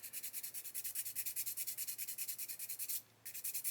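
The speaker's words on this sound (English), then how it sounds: "You don't want to watch me sit here sanding this, do you?" Rapid rhythmic rasping of a sanding stick rubbed back and forth on a plastic 1/32 scale Lancaster bomber model kit part, close up and steady, with one brief pause near the end.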